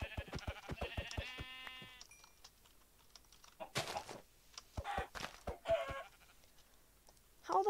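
Sheep in Minecraft bleat in a few short, wavering cries early on, followed by scattered sharp keyboard-like clicks and other brief game noises at close range.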